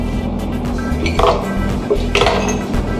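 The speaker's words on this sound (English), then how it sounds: "Take a couple of ice cubes" A couple of light clinks, like ice cubes dropping into a container, over a steady electrical hum.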